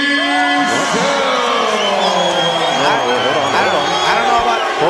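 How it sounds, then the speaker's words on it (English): An arena crowd at an MMA event in Hawaii reacts loudly to a unanimous-decision result, mixing boos, whoops and yells into a dense, sustained roar, with shouting voices prominent. "We're definitely get a mixed crowd reaction here."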